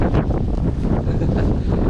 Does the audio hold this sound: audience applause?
no